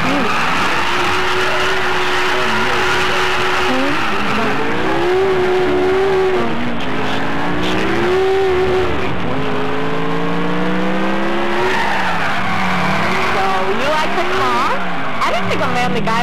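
Car driving in Grand Theft Auto IV on Xbox 360, engine revving loud and close as it repeatedly climbs and drops through gear changes, with in-game voices talking over the engine throughout.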